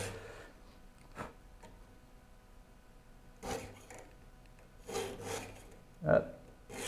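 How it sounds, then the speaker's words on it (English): A file rasps across the teeth of a rip saw being sharpened, in a few quiet, separate strokes spread through the clip, with soft silence between them. "I'm glad I know how to sharpen my saws now"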